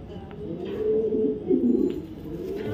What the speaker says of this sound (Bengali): এখানে দেখা একটা রেড পাইড একটা মাদি কবুতর, একদম অরিজিনাল বিদেশি লাইনের কবুতর।